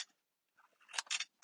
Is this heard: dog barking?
no